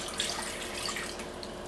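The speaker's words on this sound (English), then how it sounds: "So let's put the water in" Water poured into a pot or pan as the first step of making rock candy at home, a steady hissing trickle that runs for about two seconds at moderate level with no talking.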